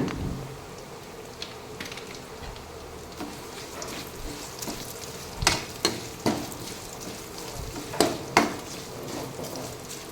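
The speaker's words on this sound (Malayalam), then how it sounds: "ഇനി നമുക്കതിലേക്ക് ചതച്ച വറ്റൽമുളക് ഇട്ട് കൊടുക്കാം." Crushed dried red chillies hitting browned onions in a hot pan, a low steady sizzle with sharp scrapes and clinks of a spoon against the metal pan, louder bursts near the middle and end.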